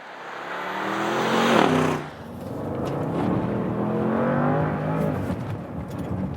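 A Bentley Bentayga S SUV engine revs up to a loud peak, drops briefly and then pulls away in steady acceleration, its roar close and dominant for the whole stretch, with no speech over it.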